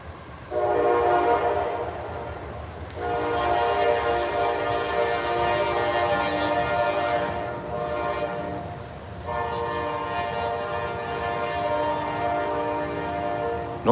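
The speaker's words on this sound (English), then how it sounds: "Norfolk Southern, making noise." A Norfolk Southern freight train passing, its horn blaring in long sustained blasts with short gaps between them, over a steady rumble of rolling railcars, heard from a garden.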